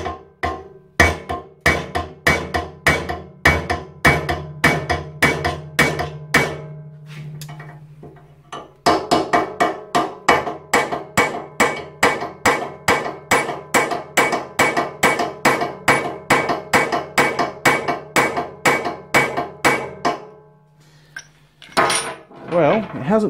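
Loud, steady hammer blows drive a flat punch, more of a chisel, against a motorcycle steering head bearing race in a workshop, ringing metallic strikes repeating in quick even rhythm with a brief pause midway.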